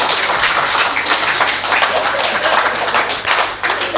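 An audience at a devotional speech claps in dense, continuous applause that stays loud and even throughout.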